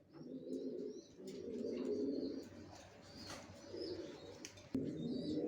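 Original racer pigeons of a Johnson long line, young birds kept for sale, coo in low rolling bursts nearby, with faint chirps and a soft flap or knock in the background.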